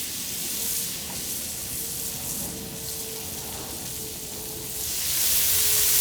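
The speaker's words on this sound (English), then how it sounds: "The onions are going to get some little louis. Seasoned garlic, salt, and black pepper. Add some red bell pepper for color and flavor." Onions seasoned with garlic, salt and black pepper, along with red bell pepper, sizzle steadily on a hot griddle, a close, continuous crackling hiss that swells slightly louder at the end, with no talking.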